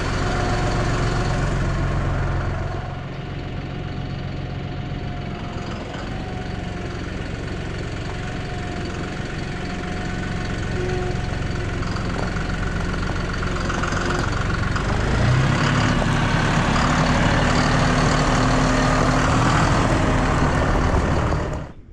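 A Massey tractor with a Vermeer implement hooked up idles steadily close by, a continuous low engine drone with a slight rise in intensity partway through and no talk.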